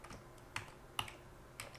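Computer keyboard keys are pressed to steer a Unity game character, producing four separate sharp clicks spaced roughly half a second apart, close and fairly quiet with no speech.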